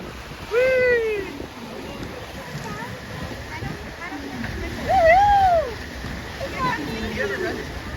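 Rushing, splashing water on a theme park water ride at Disney's Animal Kingdom, a steady wash under excited voices and squeals from riders nearby.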